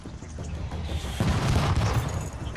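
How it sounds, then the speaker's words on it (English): A tank shell blasts in the video game Tom Clancy's The Division, a heavy booming impact that hits suddenly about midway and rumbles on amid ongoing gunfire and game noise. "Oh, hello, tank shell."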